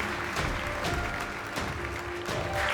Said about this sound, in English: Huge round of applause for Sebastião Salgado.